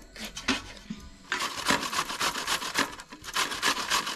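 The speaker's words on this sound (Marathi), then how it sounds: "तर अशा प्रकारे ह्या ना किसून घ्यायचा मस्तपैकी." A ripe, fully mature cucumber is grated by hand for the Malvani dish topatla: fast, rhythmic, close rasping strokes, sparse at first and then steady and denser.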